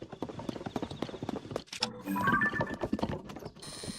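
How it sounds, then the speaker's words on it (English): Horse hooves clip-clop in quick, steady beats in The Legend of Zelda: Tears of the Kingdom, with game effects chiming in midway and no one talking. "Oh, we got a horse."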